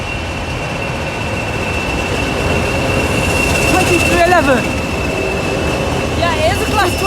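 Class 20 diesel locomotive passing through Nottingham station, a steady loud rumble with a sustained high whine and squealing wheel tones near the end, under background noise.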